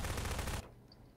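Rapid automatic gunfire in the video game Prop Hunt, a loud dense burst of shots lasting about half a second before cutting off to quiet room tone.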